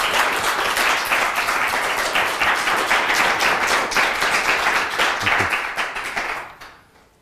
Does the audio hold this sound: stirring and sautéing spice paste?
no